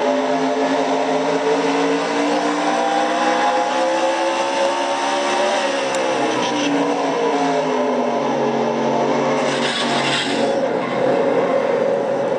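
Recorded from the in-car camera of a stock race car during a Castrol GTX Cup Series race, the engine roars loud and close without a break, its pitch rising and falling as it accelerates and lifts.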